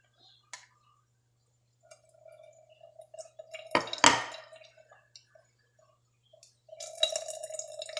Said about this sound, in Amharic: ውሃውን እያጠለልኩ ነው።